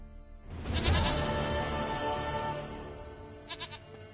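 A goat in The Witcher 3 gives one long, wavering bleat that swells and fades over a couple of seconds, followed by a few short quieter bleats, close and clear with no talking.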